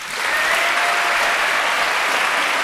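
A TV studio audience breaks into loud, sustained applause that swells within a moment and holds steady, a dense wash of clapping hands.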